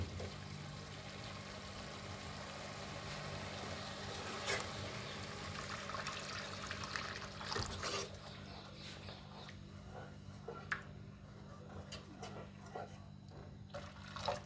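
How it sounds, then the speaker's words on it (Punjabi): Water from a glass poured into cooked masala for a besan sabzi, a steady wash of liquid splashing and sizzling in the pan, with a low background hum throughout. "ਹੁਣ ਆਪਾਂ ਇਹਦੇ ਵਿੱਚ ਇੱਕ ਗਲਾਸ ਪਾਣੀ ਦਾ ਪਾਵਾਂਗੇ"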